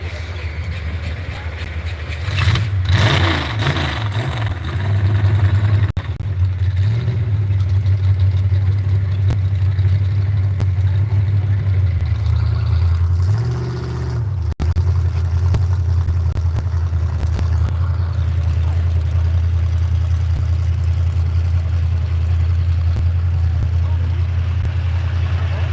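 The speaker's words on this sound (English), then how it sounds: "sled is powered by its own little 4-cylinder Ford engine, burning nitromethane, triple carburetors, double transmissions" A small 4-cylinder Ford engine on a tractor-pull sled, burning nitromethane and fed by triple carburetors and a supercharger, roars loud and steady for the whole stretch with a brief dip partway, an announcer's voice heard over it.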